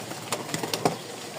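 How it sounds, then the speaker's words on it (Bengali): Pigeons kept for sale coo in a loft, with a quick run of several short, soft coos and rustles close to the listener. "প্রতিটা কবুতর অ্যাক্টিভ"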